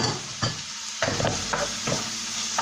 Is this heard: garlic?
yes